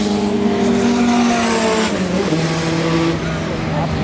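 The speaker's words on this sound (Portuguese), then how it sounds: "É o outro golzão andando na frente." A Volkswagen Gol drives at a drag race, its engine a steady loud roar throughout, with crowd and event noise around it and people talking over it.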